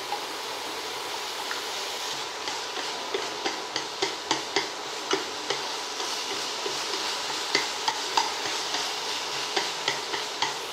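Eggs are whisked with seasoning and salt in a bowl for a bitter melon stir-fry. The mixing comes through as a steady run of light, quick taps and clicks under a constant hiss of background noise, with no voices.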